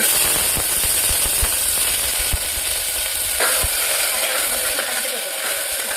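Spices tempering in hot oil for a poi greens curry, giving a continuous loud sizzle with scattered crackles and sharp pops throughout, alone with no voices.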